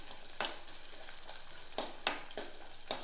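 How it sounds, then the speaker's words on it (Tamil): Onions sizzle steadily in a hot pan, with a few scraping stirs of a spoon breaking through the constant frying hiss; quiet and close. "வெங்காயம் கொஞ்சம் வதங்கிட்டு இருக்கு"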